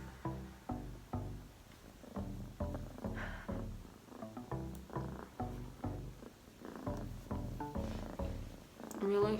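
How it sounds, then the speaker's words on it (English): A pet cat purrs steadily and close by, a rhythmic rumble of repeated inhale and exhale pulses that carries on alone without a break. "And then she starts purring like I'm gonna give her food."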